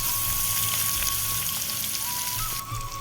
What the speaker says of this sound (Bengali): কুচিয়ে রাখা পেঁয়াজটা কিছুক্ষণ সময় একটু ভালো করে ফ্রাই করে নেব